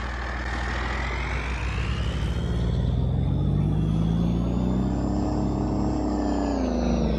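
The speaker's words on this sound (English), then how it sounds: "I do want to hear that truck start" A truck engine in Farming Simulator 22 rumbling and revving up, a loud, steady low drone whose pitch rises and then eases off, with no talk over it.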